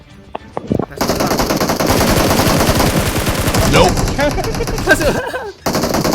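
Rapid automatic gunfire rattles in PUBG Mobile, loud and nearly continuous for several seconds after a brief quieter start, with a voice speaking briefly over it.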